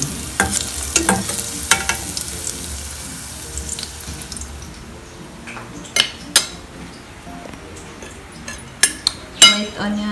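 Garlic and onions fry in a pan with a soft sizzle, while a utensil scrapes and clacks against the pan in sharp, irregular knocks.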